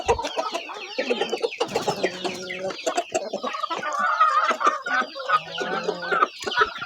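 A flock of hungry laying hens and chicks clucks and squawks continuously, many birds chattering at once close by, with occasional louder cackles rising above the din.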